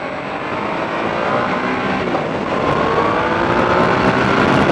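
A Triumph Sprint GT motorcycle engine pulls hard and climbs steadily in pitch, a continuous roaring whine with wind noise, loud and close.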